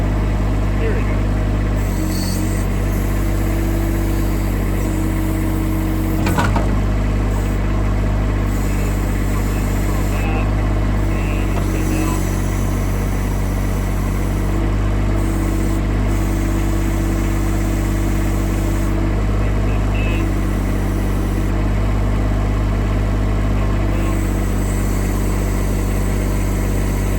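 A Huayee HY16c mini excavator engine runs steadily at idle close by, a constant low rumble and hum throughout, with a brief louder knock partway through.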